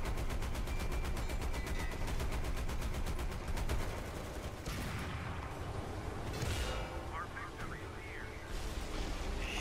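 Gunfire in the War Thunder video game: dense, rapid machine-gun bursts over a constant engine drone, easing after a few seconds into steady aircraft noise with scattered impacts.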